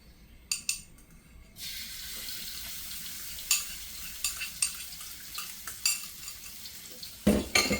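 Chili and garlic stir-fried in a wok with a little oil for a water mimosa and shrimp dish: a steady sizzle beneath repeated metallic scrapes and clanks of the spatula, close, with no talking.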